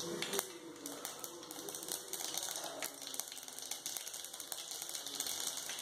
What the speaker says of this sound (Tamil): எண்ணெய் காஞ்சிருச்சு, கடுகுளுத்தம்பருப்பு போடுவோம்.